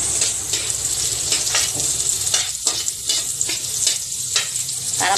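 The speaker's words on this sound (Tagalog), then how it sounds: "Ayan po, ay isasangkutya po natin ng konti ang sibuyas." Onion sizzles and crackles in a hot pan for fish paksiw in coconut milk, with repeated stirring strokes scraping at a steady rhythm over the constant frying hiss; no voices.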